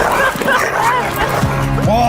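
A dog barking and yipping in a film trailer, close, loud bursts layered over music and dialogue, with people talking throughout.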